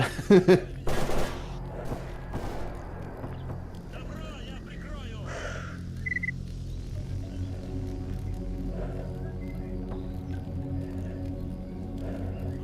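Gunfire in the video game Stalker Anomaly: a few sharp shots near the start, then quieter rumbling game ambience with faint distant effects, and no talk over it.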